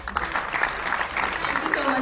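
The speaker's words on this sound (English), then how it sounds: "give applause." Applause from an audience at a university induction program, a dense, steady patter of many hands sustained throughout, with voices mixed in underneath.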